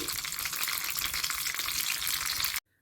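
Dried red chillies sizzle loudly in hot oil, a steady crackling hiss close up that cuts off abruptly.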